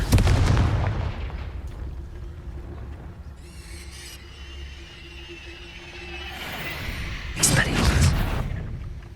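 The Confringo fire spell in Hogwarts Legacy bursts with a heavy, booming blast at the start, then tails into rumbling, and whooshing magical effects and a second loud flare follow near the end, all close and loud.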